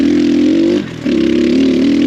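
An X Pro Storm 150 DLX ultralight dual sport motorcycle on a trail making a pivot turn, its engine droning loud and close, dipping for a moment at mid-turn and then climbing back.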